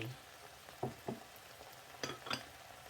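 Egg frying in a pan with oil after sugar and seasoning sauce, giving a quiet steady sizzle and a few soft stirring clinks and scrapes, faint and close with no voices.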